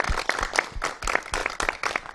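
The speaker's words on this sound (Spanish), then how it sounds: "Yo quiero un aplauso para todos nosotros" Audience applause at a Parques de la Salud health-program event, steady rhythmic clapping that pulses evenly through the whole stretch, fairly close and with no voices over it.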